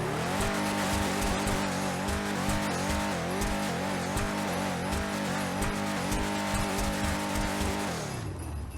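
A Declasse Drift Tampa in GTA Online runs a sound test, its engine revving hard and loud in rapid rising and falling surges with tire squeal, cutting off near the end.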